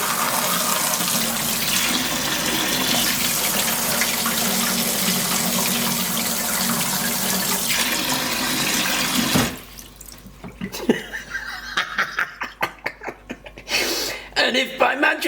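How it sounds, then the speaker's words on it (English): Water gushing steadily from a sink tap, used to rinse a cyanotype print made with tea, loud and continuous before stopping, followed by scattered drips, splashes and handling sounds. "I'm just going to turn the tap on"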